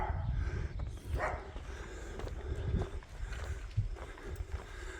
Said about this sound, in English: This is a little yappy terrier.